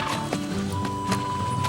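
Strawberry the horse is led from a corral, hooves clip-clopping steadily at close range with a neigh partway through, over a faint continuous background tone.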